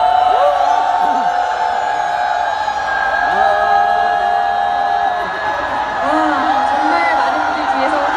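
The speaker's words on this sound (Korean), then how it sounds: "함성과 함께 파도 타기 시작!" A large outdoor crowd at a candlelight rally on Yeouido cheers and whoops as a wave sweeps through, shouts swelling and rolling in overlapping bursts, with voices carrying throughout.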